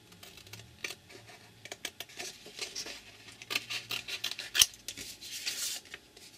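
Scissors snip and crunch through craft material for a faux metal book corner, a run of close, irregular cuts with light rustling in between and no talk.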